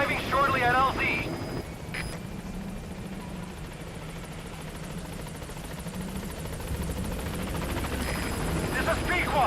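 In Metal Gear Solid V, the B-Quad helicopter flies in toward a landing zone, its rotor and engine a steady, moderately loud drone throughout, with radio voices speaking at the start and the end.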